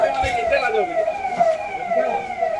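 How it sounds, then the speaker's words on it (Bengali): At night, a police car siren wails from close behind in a busy Indore street market. The rising and falling tone carries on steadily, with crowd and traffic noise underneath and voices talking nearby. "পুরো সাইরেনের আওয়াজটা পাবেন"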